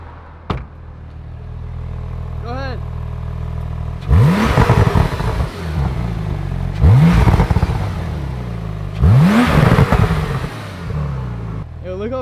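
A race-style car fitted with a big rear wing revs hard three times, each burst climbing sharply then falling back to a rumbling idle, loud and close with brief voices between.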